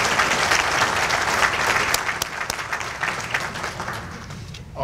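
Sustained applause from an audience at an awards banquet, a dense wash of many hands clapping that stays full and even, then thins and softens slightly toward the end.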